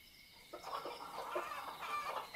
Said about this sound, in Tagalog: Iingay naman ng mga manok mo